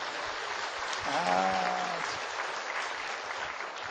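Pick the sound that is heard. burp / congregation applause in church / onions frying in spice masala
congregation applause in church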